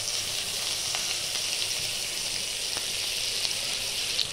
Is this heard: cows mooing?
no